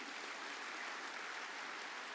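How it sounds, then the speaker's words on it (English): Faint, steady applause from a conference-hall audience at a business conclave plenary session, a dense wash of clapping that holds evenly for about two seconds without a voice. "Can we have a round of applause for them, please?"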